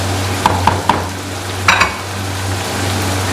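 Beef stew with fresh coriander is stirred in a pot, with a few close, sharp spoon clinks against the metal over a steady low sizzle and hum.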